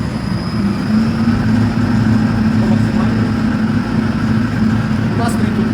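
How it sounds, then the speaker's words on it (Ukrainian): An STvega CB F1800 washing and peeling machine for potatoes and carrots runs idle in forward mode, giving a steady, loud mechanical drone and hum that continues evenly throughout. "давайте протестуємо зараз цю машину на холостому ходу, тобто ми включаємо форвард стан"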